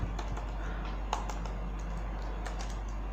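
Rapid, uneven keystrokes on a computer keyboard while entering JavaScript code, light clicks running steadily at close range with one sharper key hit partway through, no voice over them.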